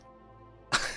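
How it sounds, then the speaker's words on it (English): A single sharp cough bursts in near the end after near silence, short and fairly loud, with no talking. "Another cough from your sister."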